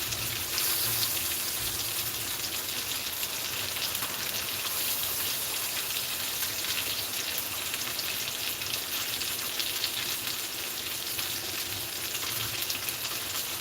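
Steady rain falling outdoors during a thunderstorm, a continuous dense hiss of drops on surfaces, even and unbroken throughout with no talking.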